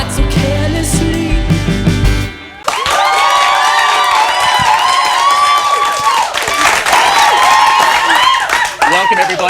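A live audience cheers, whoops and claps loudly after a band's performance, a dense sustained roar of applause that follows the fading end of the music.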